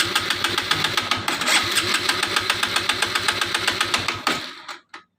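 Honda Supra X 125 motorcycle from 2018 with a stalling fault, its engine firing in a fast steady rhythm of close, loud pulses that runs for about four seconds, then cuts out abruptly into a few sputters and silence.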